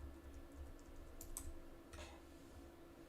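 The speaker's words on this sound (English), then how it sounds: "as soon as I start typing, then it starts showing up on the other side" Quick bursts of computer keyboard typing, a few scattered keystroke clusters, faint and close over steady background hum, with no voices.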